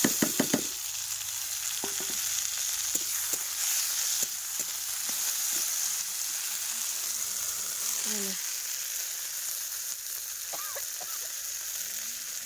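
Taro and potato with chopped tomato and coriander sizzle and fry in a pan, a steady crackling hiss with occasional stirring knocks, while faint voices talk briefly in the background.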